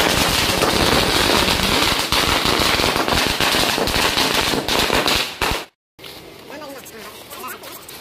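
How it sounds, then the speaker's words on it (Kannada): Firecrackers burst in a rapid, loud, crackling string of pops close by, then cut off abruptly, leaving quieter background noise and faint voices. "ಸೊ ಪಟಾಕಿ ಅಂತ ತುಂಬಾ ಸುಟ್ಟರು"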